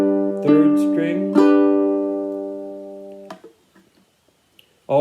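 Ukulele picked note by note with alternating bass notes, a few plucked tones ringing out clearly and decaying slowly into near silence, close and alone.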